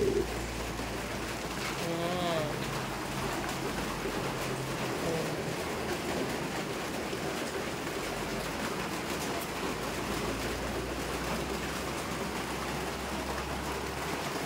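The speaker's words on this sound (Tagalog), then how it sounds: "yan ang lakas ng ulan" Steady, dense rainfall in the rural Philippines hisses continuously throughout, with a low rumbling hum underneath and a few faint bird calls early on.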